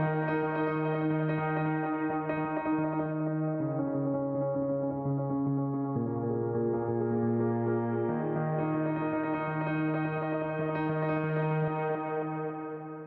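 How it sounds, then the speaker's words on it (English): Piano chords passed through an LFO-modulated auto filter, the tone sweeping slowly and steadily as sustained notes shift, with a soft bass line underneath, alone and continuous. "I modulated the auto filter so that it would sound something like this"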